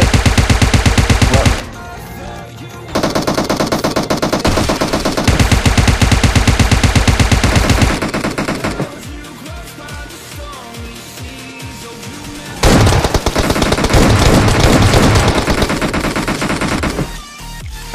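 Sustained automatic gunfire from a SCAR or AR rifle in PUBG Mobile zombie mode, loud and close, in long bursts broken by brief lulls and continuing for most of the stretch.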